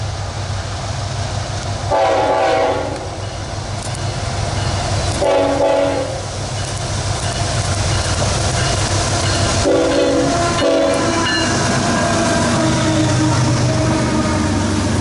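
Freight train with tank car CEFX 102 trailing behind CN locomotive 3069, the Wisconsin Central Heritage unit, rumbling loudly and steadily past, with several short horn blasts sounding over the continuous rolling noise.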